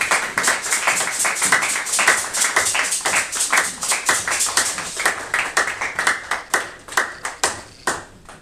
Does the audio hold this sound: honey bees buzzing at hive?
no